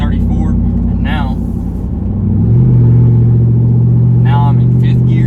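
A straight-piped Jeep Wrangler Rubicon 392 rumbles deeply while driving, then swells into a louder, steady exhaust drone partway through, with someone talking over it.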